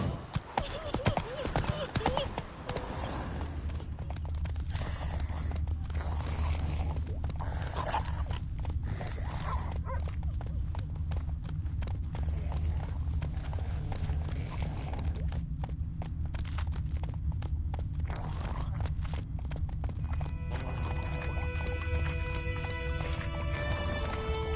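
The horse Roach gallops in The Witcher 3, its hooves drumming a fast, steady clip-clop for the whole stretch, close and prominent, with some game sound and music layered in toward the end.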